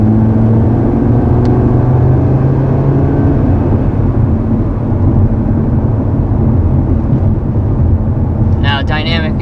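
A 2020 Audi TT RS five-cylinder engine with active exhaust in sport mode gives a loud, steady droning note that runs throughout, with a voice briefly at the very end.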